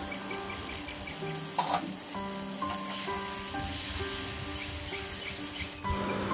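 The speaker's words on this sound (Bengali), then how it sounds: "ভালোভাবে মিশিয়ে নেব।" Potato and cauliflower curry stirred in a pan, a quiet continuous sizzle with faint scraping of the spoon and a brief knock, heard close alongside a steady background hum and no speech.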